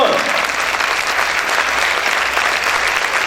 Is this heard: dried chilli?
no